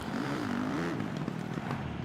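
Motocross bike engine in Supercross The Game 2 held at the rev limit, a steady buzzing drone with a wavering pitch, loud and continuous throughout without pauses.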